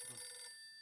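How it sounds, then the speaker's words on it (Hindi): A telephone rings once in a quiet domestic room, a bright electronic trill lasting about half a second and then cut off, leaving near silence. "फोन आया।"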